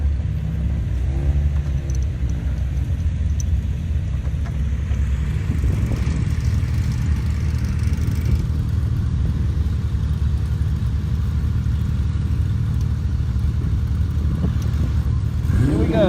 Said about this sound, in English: Here goes the Porsche.